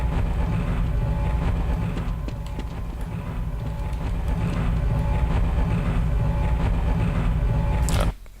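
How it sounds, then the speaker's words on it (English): Tram moving through a video game level, apparently running without rails: a steady, loud rumbling drone with faint clanks for about eight seconds, then cutting off abruptly near the end. "What's this tram running on?"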